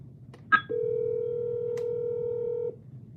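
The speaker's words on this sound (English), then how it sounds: "A ringback tone, as it said." A phone ringback tone used as a ringtone: a short electronic blip, then one steady, clear hum held for about two seconds before it cuts off over a quiet background.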